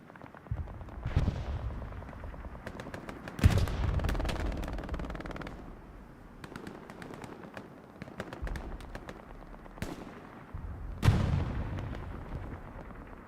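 Distant machine gun bursts and scattered shots in Hell Let Loose on the Stalingrad map, several sharp cracks standing out over a low, rumbling battlefield din, with no talking.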